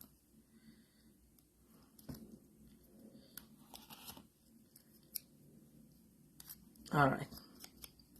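Scissors make a quiet cut while crafting Halloween 3D home decor projects, a soft crunch and snip standing out near the end amid faint handling noises, with a brief spoken word heard earlier.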